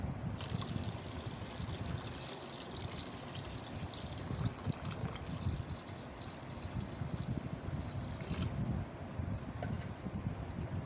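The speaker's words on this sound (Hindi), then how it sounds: "अब मैं थोड़ा सा पानी और डाल दूंगी।" Water is poured from a glass into a cooking pot while making pakoda kadhi, giving a soft, continuous trickling splash that is fairly quiet and stays steady throughout.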